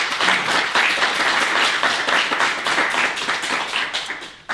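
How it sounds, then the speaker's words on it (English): Audience applause for a graduating mid-year foundation class, steady dense clapping from a crowd filling the room for several seconds before trailing off at the end. "A clap for everyone,"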